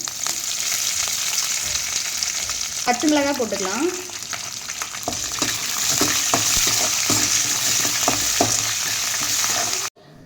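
Oil sizzles and crackles steadily as lentils and chilies fry in a pan, with a brief spoken remark near the start over the continuous frying.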